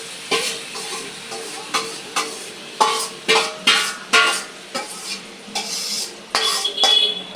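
Grated carrots for carrot halwa stir and sizzle in a pan, with a spoon scraping in repeated rhythmic strokes against the metal, close and clear, with no talking.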